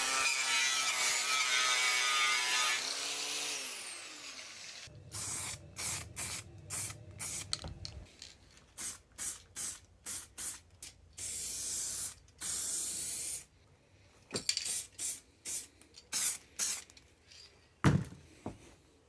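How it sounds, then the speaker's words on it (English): Aerosol chassis paint sprayed onto a Triumph TR7 radiator lower mount in a workshop: a run of short, close hissing bursts of varying length, separated by brief pauses, after a steadier opening stretch. "Then some chassis paint and it's done."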